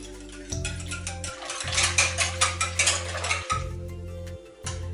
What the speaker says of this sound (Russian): И снова перемешиваю до тех пор, пока не растворятся кусочки дрожжей.